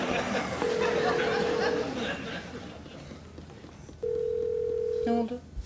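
A telephone line rings unanswered in a Turkish TV drama scene, with steady ring tones in two separate bursts over quiet room background.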